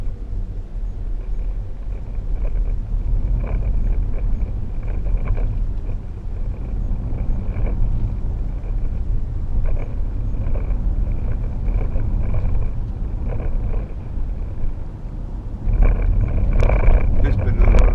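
A 2012 Range Rover Sport 3.0 SD V6 driving over a bumpy road, a steady deep cabin rumble with faint knocks and jolts, growing heavier near the end, with a voice speaking over it.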